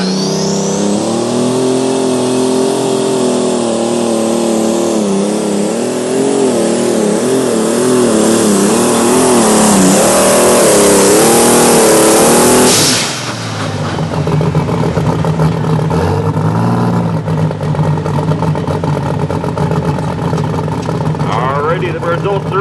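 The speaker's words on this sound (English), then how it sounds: "Now here he goes, Jason Holman with the Ford 7910." Ford 7910 tractor straining in a tractor pull at Langford, NY: a loud, continuous engine roar that wavers as it climbs, drops off sharply partway through, then settles into a lower, rougher rumble.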